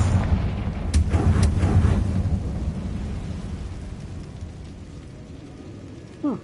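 A Confringo fire spell exploding in the Hogwarts Legacy video game, a deep rumbling blast that swells loudly and then slowly fades, with faint crackles near the start.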